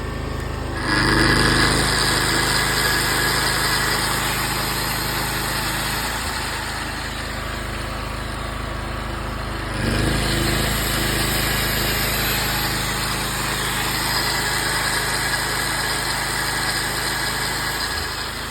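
Gasoline generator running steadily under load from a Bosch 2.2 kW angle grinder, a continuous close engine drone with a high whine that surges and dips as the grinder cuts in and out several times, with no speech.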